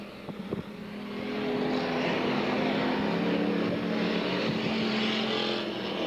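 Street stock race cars roar together down the main straightaway of an oval track in 1993, a loud sustained engine drone that builds quickly and holds steady.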